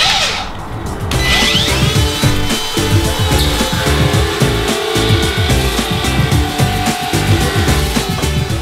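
A Makita DCO180 cordless cut-out tool spins up and then cuts freehand through a sheet, giving a loud, steady whining buzz with a rough, rasping grind that runs close and without a break.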